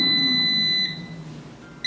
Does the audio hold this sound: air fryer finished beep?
yes